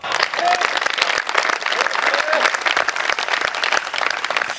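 A comedy show audience breaks into sustained applause, a loud, dense wash of clapping hands from a large crowd with a few scattered voices mixed in throughout.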